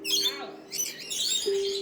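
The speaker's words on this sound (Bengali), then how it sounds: "শুনতে পাচ্ছেন পাখিরা কেমন চেঁচাচ্ছে।" Lorikeets screech in an aviary, a dense chorus of shrill overlapping calls that carries throughout at close range, with a steady low tone running underneath.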